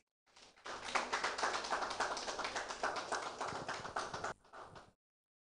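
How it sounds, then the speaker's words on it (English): Group of people at an education training event applauding, a dense burst of many hands clapping that swells quickly, holds steady for about four seconds, then fades with a few last claps. "I think we should give ourselves a clap"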